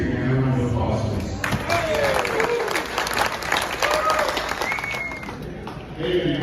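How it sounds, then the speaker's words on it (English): At a ham radio swapmeet and raffle held by the Pikes Peak Radio Amateur Association, a crowd claps for volunteer club members, brisk applause swelling after a brief voice and mixed with chatter and a few calls. "can I have a round of applause, please?"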